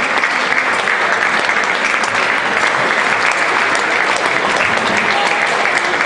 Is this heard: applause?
yes